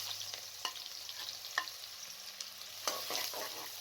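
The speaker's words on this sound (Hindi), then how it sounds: "इसके अंदर अब राई दाना मेथी दाना को शामिल कर दें और साथ में प्याज को भी डाल दें।" Mustard seeds, fenugreek seeds and onion frying in half a cup of cooking oil for achari aloo, giving a soft, quiet sizzle with occasional clinks and scrapes of stirring.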